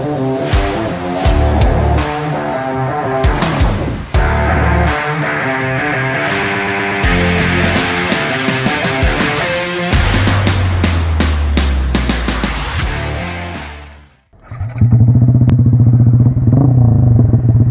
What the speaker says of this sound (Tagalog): So right now we have this bike, the Neo Retro Yamaha XSR